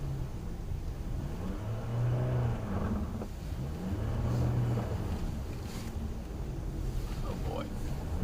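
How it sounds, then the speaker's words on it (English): Car engine revving and accelerating on a snowy street the day after a blizzard, rising twice in drawn-out surges of effort, close by, with a low wind-like rumble underneath. "I got to really step up the gas over a little bit"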